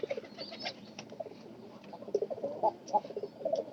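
Pigeons coo softly in a loft where a very small squab is kept, with low murmuring calls repeating irregularly and growing a little louder toward the end, close by and without talk.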